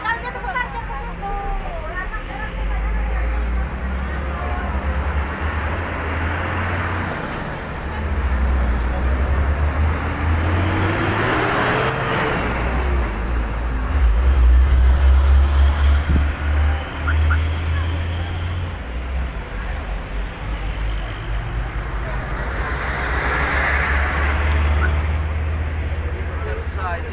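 Vehicles pass along a road in South Sumatra in daytime, a low rumble of engines swelling and fading, with someone talking over the traffic for most of the time.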